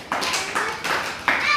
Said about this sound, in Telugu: క్లాప్స్ కొట్టండి మరి